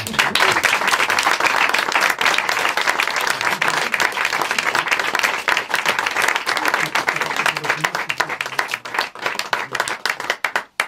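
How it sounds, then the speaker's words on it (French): A theatre audience at the Théâtre du Forestel applauds steadily for about eleven seconds, dense and loud throughout, thinning slightly into scattered claps at the very end. "Merci, vous pouvez les applaudir."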